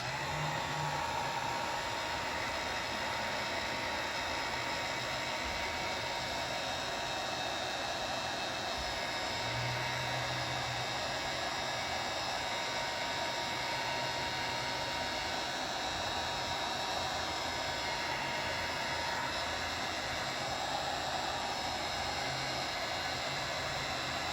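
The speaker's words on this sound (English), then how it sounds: "with my heat gun on low heat setting, I'll go ahead" A heat gun running on its low heat setting, blowing over epoxy resin, gives a steady, even whooshing hum of air that holds constant and close for the whole stretch, with no voices.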